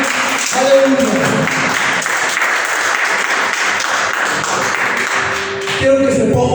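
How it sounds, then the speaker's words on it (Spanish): A church congregation claps for Jesus during a Spanish-language Christian service, with loud, continuous applause throughout and musical tones alongside. "Un aplauso al Señor Jesús"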